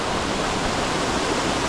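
Waterfall at Charters Towers, a steady broadband rush of falling water heard close and loud, continuous and unbroken, with no voices over it.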